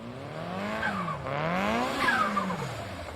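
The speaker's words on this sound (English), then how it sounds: "This is known as a dual-port blow-off valve," A dual-port turbo blow-off valve vents air in a loud, continuous whooshing rush with rising and falling tones, heard close and without talk.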